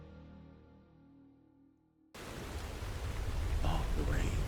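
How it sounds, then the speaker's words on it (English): Steady rain in Fallout 4 breaks in suddenly halfway through after a quiet, tonal stretch, then fills the scene as a loud, dense, continuous hiss with no talk over it. "Oh, the rain."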